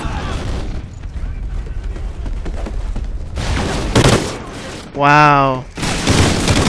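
Pistol shots from Call of Duty Ghosts multiplayer in Cranked mode, a few sharp bursts among game noise, with a man briefly reacting over them.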